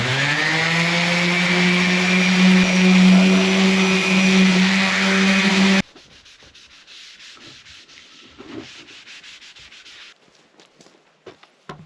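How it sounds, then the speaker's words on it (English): Loud, continuous sanding grinds for several seconds with a whirring motor drone, then cuts off abruptly, leaving quiet scraping and faint rustling. "sanding away."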